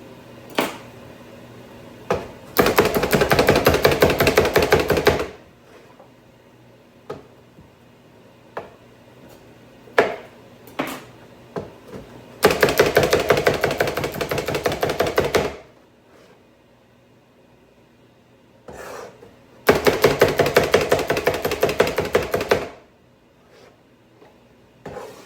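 A Mix and Chop tool crumbles ground meat in a pan, making three separate bursts of scraping and mashing, each lasting a few seconds, with quiet gaps and small clicks between them.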